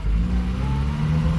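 A 75-year-old vintage car's engine revs steadily up close, a continuous loud droning hum with a low throbbing tone throughout.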